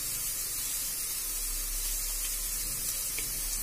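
A steady, loud hiss of dried churi fish frying in a pan with chilli, turmeric and coriander powder, a continuous close sizzle with no break and no voices.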